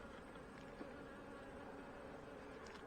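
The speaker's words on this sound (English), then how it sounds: "got a bee in my wax collection box there." A honey bee buzzing inside a wax collection box at hives near fireweed, a steady droning hum that goes on without a break, faint and enclosed, with no talk.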